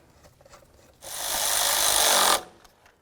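Power tool tightening a nut on the knock sensor harness of a 1999-2007 Chevy Silverado, a single close burst of buzzing, grinding whir lasting just over a second between quiet moments.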